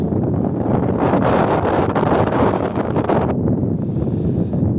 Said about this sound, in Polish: strasznie tu wieje